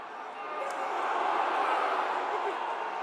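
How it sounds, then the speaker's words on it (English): Stadium crowd at a European rugby championship match between Romania and Belgium roars steadily after a big tackle, a broad sustained swell of cheering that builds slightly and holds for a few seconds. "the crowd really appreciate that hit on Grauret."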